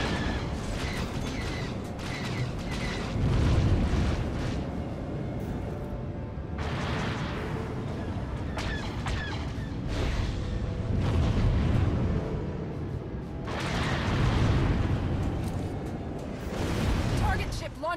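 Missile explosions and booming weapon fire in the Galactic Starfighter space combat video game, a dense, continuous barrage of rumbling blasts and crackling impacts with bursts of louder detonations throughout.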